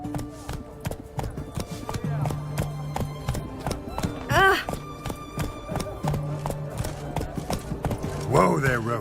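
Hooves of the horse Roach in The Witcher 3: Wild Hunt, a steady clip-clop close by with occasional whinnies, under stretches of in-game talk and background music.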